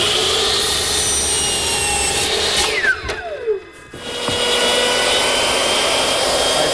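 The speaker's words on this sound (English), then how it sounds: "I'm just using my router, which is set up with a guide fence and a 1/2-inch straight" A router fitted with a guide fence and a 1/2-inch straight bit screams steadily as it cuts mortises in wooden chaise lounge rails, briefly dropping off and winding down mid-pass before roaring back up loud and continuous.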